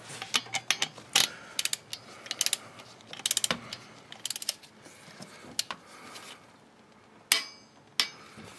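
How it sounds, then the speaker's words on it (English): A torque wrench ratchets a spark plug snug on a 2004–2008 Ford F150 5.4L engine, giving quick clusters of close mechanical clicks with short gaps and two sharper clacks near the end. "And then we need to grab a torque wrench"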